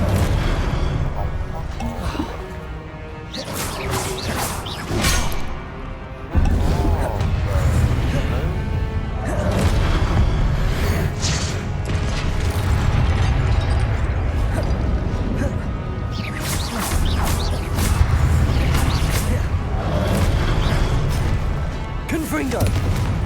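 Confringo fire-blast spells burst repeatedly in a Hogwarts Legacy battle, a string of sharp crashing impacts and booms spread across the stretch, loud and close, under busy game noise and bits of voice.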